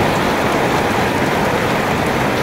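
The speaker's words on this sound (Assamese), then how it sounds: "বাহিৰত বৰষুণ দিছে" Rain pours outside in a steady, dense hiss of drops striking surfaces, loud and unbroken for the whole stretch with no voices.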